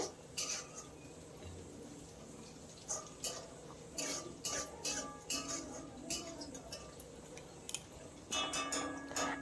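Rice being dry-fried in a pan while preparing a pointed gourd (potol) dish, with scattered light scraping and clinking of a spatula against the pan, irregular stirring clicks at close range and no talk.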